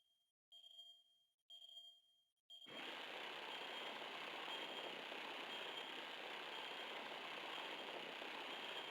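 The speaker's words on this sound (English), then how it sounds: "Scout the location with the UAV." A UAV drone's engine hums steadily in a video game tutorial, starting abruptly after a few short electronic tones and holding a loud, even, continuous drone to the end.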